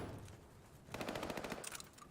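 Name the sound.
gunfire in a video game esports match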